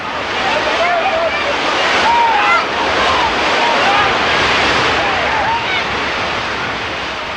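Rushing flood water surging through an arroyo, a dense continuous roar of churning water, loud and close, with faint whistling tones in it and no clear talk.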